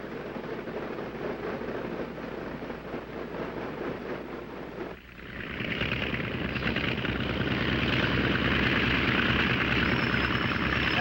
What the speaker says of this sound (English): we taxi over to the warm-up block